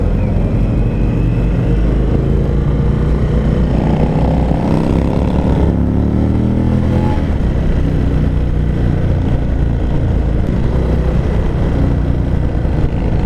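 An Indian Springfield Dark Horse motorcycle cruises at freeway speed during a group ride, its loud steady engine drone and wind roar continuous throughout, with a slight pitch shift midway and no audible talk.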